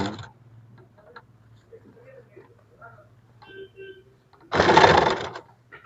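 A sewing machine stitching elastic into the waistband of a trouser, a short loud burst of rapid whirring near the end after quiet handling sounds and faint clicks.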